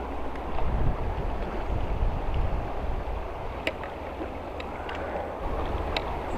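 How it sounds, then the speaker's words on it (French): Wind gusts outdoors by a river during trout fishing, a steady rushing roar that swells early and then eases, with a few faint clicks and taps. "Le vent se lève un peu."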